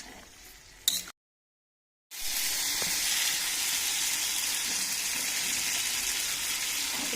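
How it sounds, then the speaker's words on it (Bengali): Goat meat sizzles and fries with spices in a pan, a steady, loud hiss running almost unbroken after a brief pause near the start, with no talking. "মিট মশলা এবার সব কিছু একসাথে ভালো করে কষিয়ে নেবে"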